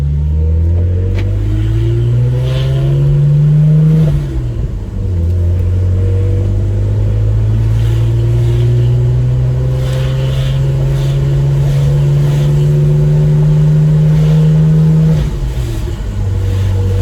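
A BMW 135i with the N54 engine climbs a hill with a boost problem, heard with the windows down: a loud, steady engine drone rises in pitch through two gear changes, with a dip and recovery near the middle and again near the end.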